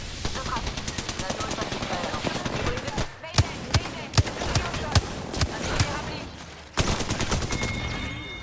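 Rapid automatic gunfire in the video game Apex Legends comes in dense bursts. A run of single, spaced heavy shots follows, then another loud burst. Players talk over the shooting.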